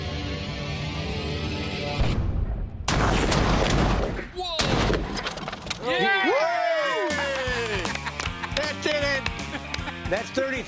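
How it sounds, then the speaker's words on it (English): A cannon fires at an outdoor range: several sharp, loud blasts and bangs in quick succession with ringing tones between them, mixed with other noises. "Cannon fired, a deal's a deal, and I own a cannon."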